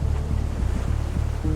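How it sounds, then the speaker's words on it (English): Large waves crash against a ship's hull in the rain, a continuous loud, rough roar of water and wind with repeated dull thuds. "larger waves hit the hull with great booms and crashes"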